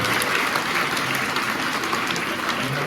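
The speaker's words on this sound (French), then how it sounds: "on applaudit très très très pour eux" A congregation at a children's Mass claps steadily, a dense, even wash of applause from many hands filling the church for the full length without a break.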